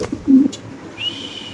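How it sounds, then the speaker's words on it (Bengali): A carrier pigeon gives a short low coo up close, followed by a thin faint whistling tone, with a quiet background and no talk. "এখানে আছে একটা ক্যারিয়ার কবুতর"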